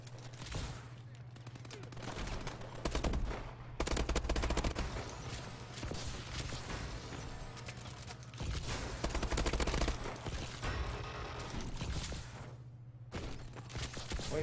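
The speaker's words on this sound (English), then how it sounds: "Shotguns and M1 irons in this lobby." Video game firefight with shotguns and M1 rifles, dense rapid gunfire and booming blasts sustained nearly throughout, loud and continuous with brief lulls, a player's voice occasionally audible beneath it.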